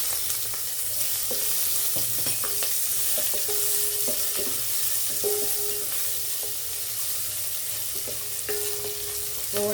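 Onion and green chili fry in a pan with a steady, close sizzle, broken by repeated scrapes and clinks of stirring throughout, with no talking.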